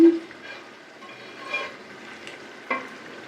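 Pomfret fish goes into a hot frying pan with a faint, steady sizzle, punctuated by a couple of soft clinks and stirring scrapes.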